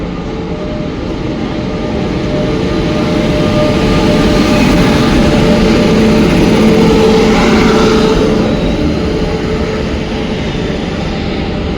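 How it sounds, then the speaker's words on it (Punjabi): A Dehradun–Delhi train rolls in loudly, its heavy steady rumble and clatter filling the scene, with a faint high squeal rising toward the end. "ਆ ਗਈ ਜੀ ਟ੍ਰੇਨ"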